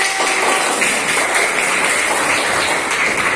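Students in a classroom applauding together, a steady dense clapping that fills the short moment without any talk over it.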